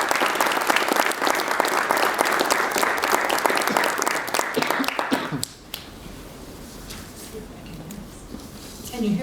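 Audience applause welcoming Dr. Roxanne Dunbar-Ortiz to the stage at a 2015 symposium on Native American nations, a dense, loud wash of clapping that runs about five seconds before cutting off to quiet room tone.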